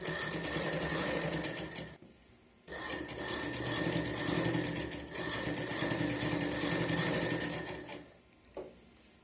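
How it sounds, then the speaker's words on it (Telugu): A sewing machine stitching a neckline runs in a steady, fast mechanical whir, briefly stopping once and again near the end, close and moderately quiet with no voices. "ఇలా పెట్టుకుని స్ట్రైట్గా స్టిచ్చింగ్ చేసుకోవాలి."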